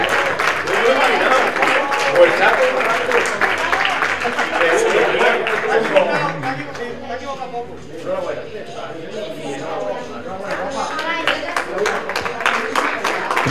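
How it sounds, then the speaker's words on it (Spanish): Clapping from a crowd at the prize-giving of a youth aquathlon, moderate and continuous, blended with chatter and an announcer's voice throughout. "Fuerte aplauso."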